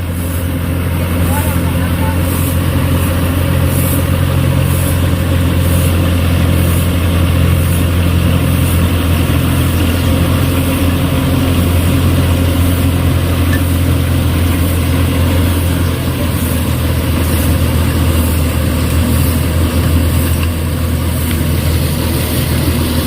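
A tractor engine running in a farm field, a steady low rumbling idle with a regular throbbing pulse, continuous and close throughout, with people talking over it.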